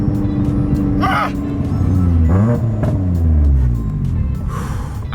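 A Mitsubishi Evo X engine revs at about one-third throttle with loud, rising and falling pitch sweeps. It sounds close and strong, and a sharp gasp cuts in near the start.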